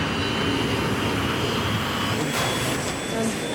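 An Airbus airliner engine runs in flight as a steady, loud, broadband cabin roar and whine, constant throughout with a faint voice beneath it.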